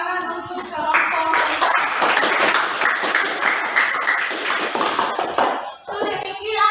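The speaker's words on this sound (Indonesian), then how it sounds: "kita kasih tepuk tangan untuk kelompok" Applause for a group presentation in a classroom: many hands clapping together in a dense, sustained burst lasting several seconds, loud and close, tapering off near the end.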